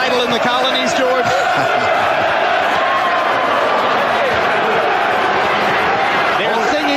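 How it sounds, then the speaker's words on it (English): Boxing arena crowd at a Lewis v Holyfield heavyweight bout, a loud, dense roar of cheering, singing and applause that fills the whole stretch, with a commentator's voice running over it. "They're singing upstairs. They're cheering downstairs. The applause is building."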